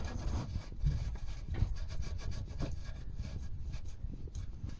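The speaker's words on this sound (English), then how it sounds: "Screw the new filter into place." Oil filter being screwed by hand onto a Fiat 500 engine, a close, steady rubbing and scraping with no talk.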